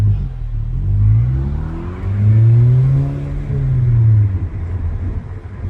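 2019 Honda Civic Sport with a muffler delete revs up and down a few times, a loud, deep, raspy exhaust drone that rises and falls close by.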